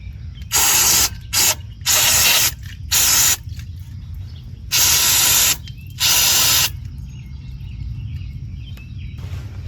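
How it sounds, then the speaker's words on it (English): Aerosol brake cleaner sprays in short bursts of loud hissing inside the engine bay of a GMC Acadia, six blasts of varying length separated by pauses, with a low background hum. "spray some of this brake clean."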